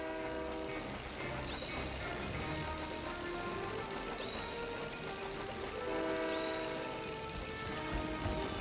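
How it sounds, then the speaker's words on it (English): A passing train in the video game Disney Planes, with a steady rumbling engine drone and a sustained horn-like tone running throughout, fairly loud and continuous with no talking. "This choo-choo engine is an insult to my name."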